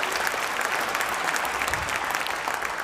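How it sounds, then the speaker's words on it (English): A crowd at a public talk on renewable energy claps for itself, sustained and fairly loud, with no speech over it. "please clap for yourselves"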